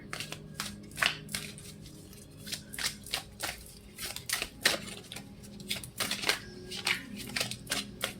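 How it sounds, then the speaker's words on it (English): A deck of tarot-style cards being shuffled by hand at close range, a steady series of quick, crisp riffling flutters and taps repeating irregularly, with no talking. "When I'm shuffling this deck, which I'm about to"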